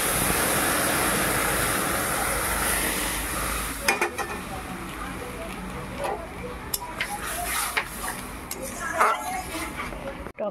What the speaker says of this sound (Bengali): সর্ষেটা ভাজা হয়ে গেছে, ঢেলে দিচ্ছি ডালটা